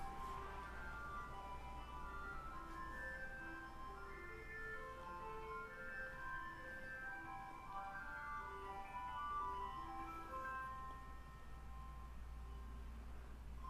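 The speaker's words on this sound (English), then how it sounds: "ice cream truck drives around in December in Florida." An ice cream truck cruising a Florida neighborhood in December plays its looping chime melody at a steady distance, a bright tinkly tune repeating over a constant low engine rumble.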